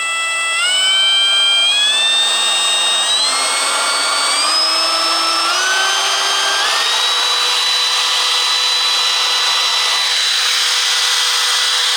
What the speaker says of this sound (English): then you can turn the router on